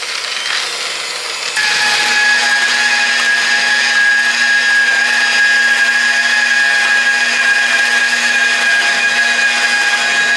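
Bench grinder spinning a polishing wheel while buffing an aluminum wheel: a quieter start gives way to a loud, steady high whine with sustained tonal ringing that holds evenly to the end, with no talk.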